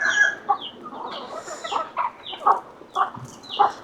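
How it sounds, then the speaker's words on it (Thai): Chickens clucking in a Thai village yard: repeated short, close clucks and squawks come in a loose rhythm over a quiet background. "ไก่ร้ายเนาะ"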